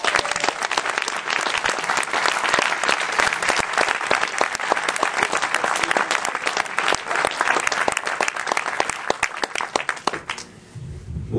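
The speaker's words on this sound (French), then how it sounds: "Je vous demande un tonnerre d'applaudissements pour Onizuka." A packed audience at a slam poetry night, the launch of the French slam league in Reims, gives a Poitiers poet dense, sustained applause for about ten seconds before it thins out and stops.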